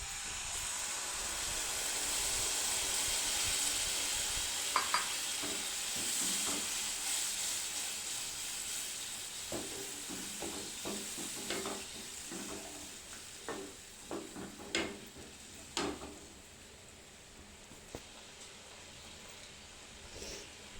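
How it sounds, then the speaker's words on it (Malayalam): Squeezed tamarind liquid poured into a hot pan for a ginger-tamarind pickle, a soft hiss and simmering sizzle dotted with faint clinks and stirring taps that grow sparser toward the end. "ഇനി തീ കത്തിച്ചിട്ട് ഈ പിഴിഞ്ഞ് വെച്ച പുളി അതിലേക്ക് ഒഴിച്ചു കൊടുക്കാം"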